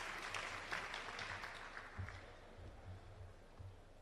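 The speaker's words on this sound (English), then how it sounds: "A round of applause for Mr. Vian, ladies and gentlemen." An audience applauds steadily at a transport development launch event, a soft, fairly distant wash of clapping that carries on without a break.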